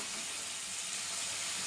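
Beans and potatoes fry in a pan, giving a steady, close, even sizzle with no break and no talking.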